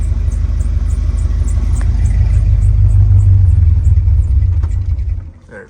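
A G-body car's small-block V8 rumbles loudly at idle with a steady low throb, then sputters and dies as the carburetor runs dry near the end.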